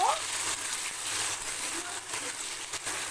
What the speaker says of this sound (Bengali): এবারে দেব টুকরো করে রাখা আলু একটু নাড়াচাড়া করে নেব